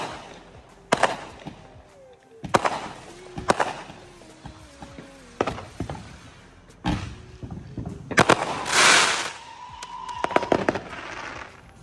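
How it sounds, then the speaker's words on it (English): Several sharp firework aerial shell bursts crack at irregular intervals, some followed by crackling and hissing sparks, loud against a quiet background. "another Space Ranger firework"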